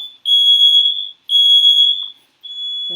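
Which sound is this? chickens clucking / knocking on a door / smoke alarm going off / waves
smoke alarm going off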